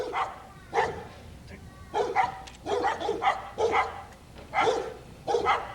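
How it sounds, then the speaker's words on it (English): Dogs bark repeatedly in bursts of several sharp barks, moderately loud and fairly close, with pauses between volleys and some background noise underneath. "barking dogs enhance the movement"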